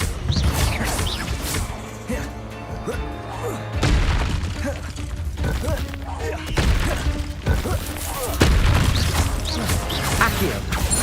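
Hogwarts Legacy spell combat with the Incendio fire spell: repeated loud bursts, crashes and whooshing impacts in close succession, with a few brief gaps between heavy hits.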